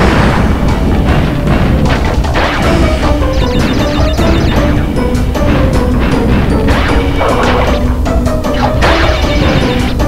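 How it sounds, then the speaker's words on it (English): A TNT crate blowing up in Crash Bandicoot 2 on PS1, loud and dense with crashing game effects and tonal music over the whole stretch, no speech. "We're making that TNT explode"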